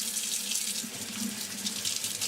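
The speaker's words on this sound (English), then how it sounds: "turn on the water." A faucet runs into a sink while makeup brushes are being cleaned, giving a steady, moderately close stream of splashing water with no talk.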